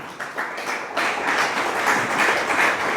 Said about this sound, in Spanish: démosle un aplauso al Señor, mis hermanos